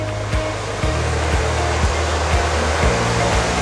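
A hair dryer blows continuously while hair is styled, a loud close steady whoosh with small pitch shifts as it moves, no voices.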